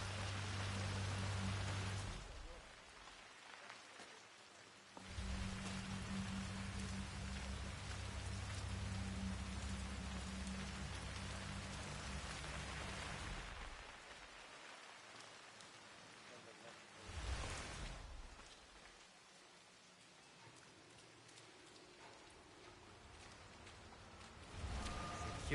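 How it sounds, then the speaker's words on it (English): Steady rain falls throughout in the video game Hitman 3, a dense, continuous hiss that swells and briefly dips in a few spots, with low background tones and occasional muffled voices underneath. "I'm never going out in the rain again."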